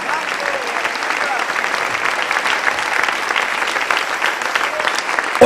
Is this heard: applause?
yes